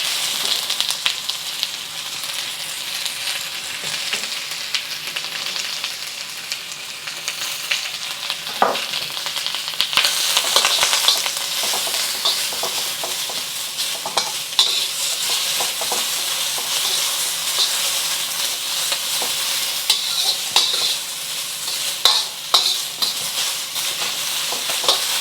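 Onions sizzle in hot oil in a wok while cooking beef fried rice, a loud, continuous frying hiss broken by frequent scraping clatters of stirring, with no talking.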